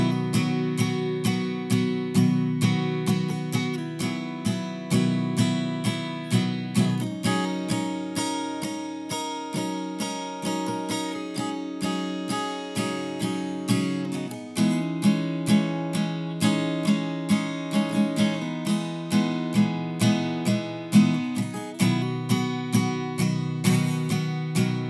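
Acoustic guitar playing a section of a song slowly, strummed and picked chords ringing out in a steady rhythm with no voice.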